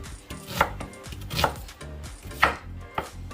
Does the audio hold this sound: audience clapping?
no